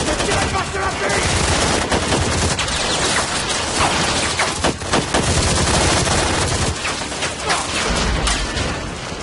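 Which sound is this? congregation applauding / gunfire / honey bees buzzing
gunfire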